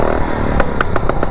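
The small engine of a modified fast lawn mower revs hard and close, rattling and sputtering with a few sharp bursts near the end.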